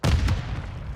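A frag grenade detonates in Call of Duty: Modern Warfare II / Warzone 2, a single loud, close boom with a heavy low-end thump that rolls into a decaying rumble.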